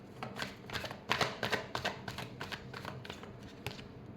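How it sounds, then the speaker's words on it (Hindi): Tarot cards being shuffled by hand in a final shuffle before a reading, a run of quick, crisp riffling bursts and soft taps close up, with no talk. "Last shuffle."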